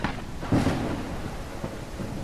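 Heavy rain with a rumble of thunder in the indie horror game Detective: Rainy Night, a steady downpour wash with one low thunder swell near the start, fairly loud, no voices.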